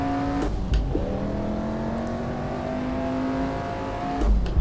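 Historic Formula One race cars from 1959 at the Reims-Gueux French Grand Prix in a racing video game, engines holding a steady loud drone with shifting pitch, a gear change near the start and another car rushing close at the end.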